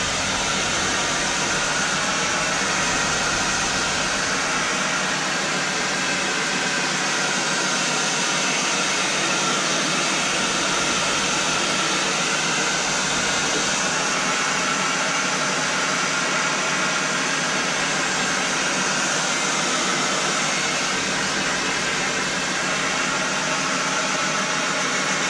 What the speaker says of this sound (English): Give another blast with the hairdryer.